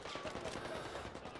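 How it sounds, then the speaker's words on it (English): Faint, rapid video game gunfire crackles steadily through a short online shootout, muffled and distant with no voices. "They're shooting at me."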